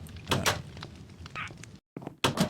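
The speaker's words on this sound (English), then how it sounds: "Shut the door. Make sure you shut the door." Minecraft door shutting with a couple of blocky wooden thunks, one around the middle and another near the end after a short silent gap, with talk running through.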